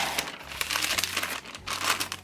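Greaseproof paper crinkles and rustles loudly up close as it is folded over fabric for a cosplay petal skirt, with continuous crackling bursts and no speech.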